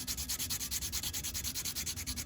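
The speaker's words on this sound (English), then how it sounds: "I'm going to use some 220 grit, smooth it out." 220 grit sandpaper rubs steadily over cypress wood for a duck call in quick, even back-and-forth strokes, a close, dry rasping rhythm with no talking.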